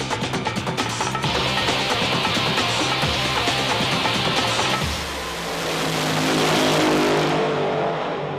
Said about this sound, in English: Top alcohol dragsters. This is the first round of their FIA Championship here at Santapod.